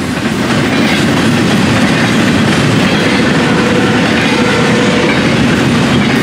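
A Florida East Coast freight train passes at night with loud, continuous rumbling and rhythmic clickety-clack of railcar wheels that stays close and steady throughout.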